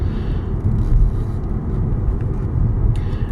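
A 2007 Lexus LS460 L on a test drive, heard from inside as a steady low road rumble and engine hum that continues without pause and without talk.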